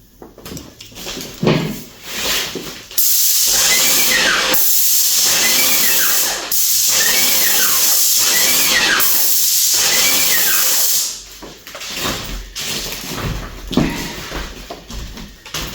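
An Erbuaer airless paint sprayer lays a mist coat on a wall, giving a loud, steady hiss of spray that runs for several seconds, with quieter handling noises before and after.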